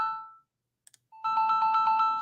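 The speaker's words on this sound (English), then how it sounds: "Sorry, my phone's going off here." A mobile phone ringtone goes off after a moment of near silence and a couple of tiny clicks, playing a loud repeating electronic melody in steady pulses, with no one speaking over it.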